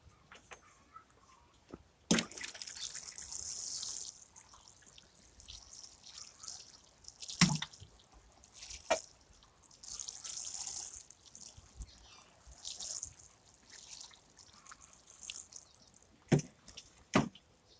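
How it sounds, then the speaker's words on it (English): Water splashing and trickling from a can onto trays of newly sown broccoli, cabbage and kale seeds, in several short pours separated by quiet pauses and occasional knocks. "Water."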